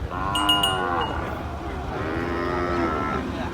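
Cattle low at a livestock market in Phenyat, Khok Samrong, Thailand, two long, drawn-out moos at moderate distance, with a few faint bell clinks early on.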